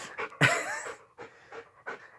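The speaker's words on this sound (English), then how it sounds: "here comes the dog" A dog pants in quick, rhythmic bursts of breathy huffs close by, with one louder whimpering exhale near the start and no talking.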